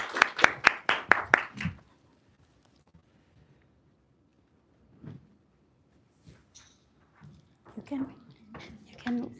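A short burst of clapping at a youth conference, several hands clapping in quick rhythm for under two seconds, then near silence broken by soft murmurs and scattered voices.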